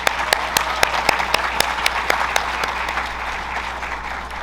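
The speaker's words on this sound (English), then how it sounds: "Please, let's give a round of applause for tonight's graduates." An audience at a Nuevo Comienzo celebration applauds graduates with a sustained round of clapping, a few sharp individual claps standing out near the start before the sound thins and eases off.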